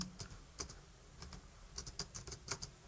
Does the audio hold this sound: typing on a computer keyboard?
yes